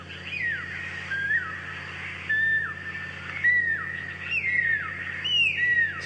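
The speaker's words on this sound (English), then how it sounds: "So that's the pearl spotted owlets calling." Recorded pearl-spotted owlet calls play back as a series of clear, rising-and-falling whistled notes repeated in short bursts, over a low steady engine hum.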